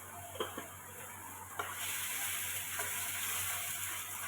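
Spices sizzle and fry in hot oil for a salted tengra fish curry, a steady close hiss broken by a few sharp clicks and stirring knocks.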